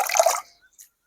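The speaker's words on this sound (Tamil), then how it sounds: "உப்பு தண்ணியில கழுவி போடுறது நல்லது" Greens being rinsed in salt water, a short burst of splashing and dripping water that stops quickly, followed by a faint drip.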